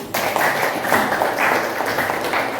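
Classroom applause from students, a dense steady patter of many hands clapping close by, continuing evenly from start to end with no talk over it.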